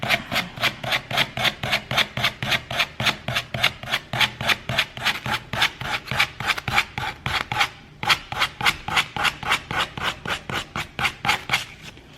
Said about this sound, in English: I'm gonna do this all the way around the piece. And I'm just using a 400 grit sandpaper.